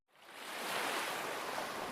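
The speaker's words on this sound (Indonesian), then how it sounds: "Tinggal suara dari sungai." A river's flowing water makes a steady, broad rushing wash that swells in within a fraction of a second and holds evenly, close and moderately loud, with no voices.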